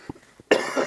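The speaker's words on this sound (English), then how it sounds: "I have to cough right as I start the stream" A single loud, harsh human cough bursts out near the microphone after a few faint breathy sounds, close and brief.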